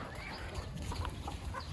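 Chickens cluck softly at morning feeding time on a poultry farm where ducks are also being fed. The clucking is fairly faint and blends into a steady outdoor murmur.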